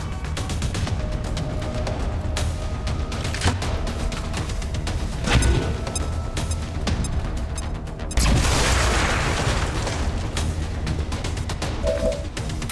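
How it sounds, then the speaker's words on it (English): A grenade explodes in the turn-based strategy game XCOM 2, a sudden booming blast with a wash of debris noise partway through, set over continuous game soundtrack and ambience. "we'll take our Grenadier and get them with a grenade"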